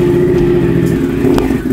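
A loud chopper motorcycle engine runs with a deep, steady throbbing idle and slight revving, close and dominant, with no talking.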